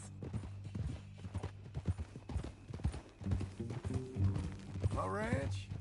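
Horse hooves clip-clop at a steady walking pace in Red Dead Redemption 2, low and close beneath ongoing conversation between characters, with a horse whinny near the end.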